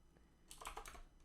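Arrow keys on a computer keyboard are tapped in a spreadsheet, a short run of four or five faint, close clicks in quick succession with no speech.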